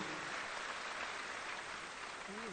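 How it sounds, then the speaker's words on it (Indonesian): Distant, faint crowd applause fills a large assembly hall at the 2024 closing ceremony of a political party's national congress, a steady dense wash with no distinct individual claps. "Boleh tepuk tangan yang meriah para hadirin yang kami hormati."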